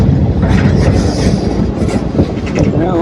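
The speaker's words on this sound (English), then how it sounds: "That caboose is doing a good job of pulling us up here" A Leadville railroad train in Colorado climbs uphill with a caboose pushing, producing a loud, close, continuous rumble of wheels and cars with rhythmic clatter and occasional faint squeals.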